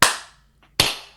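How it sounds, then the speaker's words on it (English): Two sharp hand claps, spaced under a second apart, made to sync a recording; each is a crisp, loud snap with a short ringing room tail, and no talking around them. "Could we do another clap for the sequence?"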